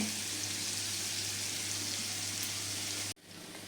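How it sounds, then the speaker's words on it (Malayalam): Prawns fry in coconut oil with curry leaves, giving a steady, even hiss of hot oil at close range that cuts off abruptly near the end, then returns faintly. "വെളിച്ചെണ്ണയിൽ ചെമ്മീൻ ഫ്രൈ ചെയ്ത് എടുക്കുമ്പോഴാണ് നല്ലൊരു നാടൻ ടേസ്റ്റ് കിട്ടുന്നത്"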